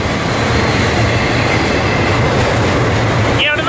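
A BNSF or Union Pacific freight train rolls past close by at Cajon Pass, a loud steady rumble of wheels and cars with faint clatter throughout.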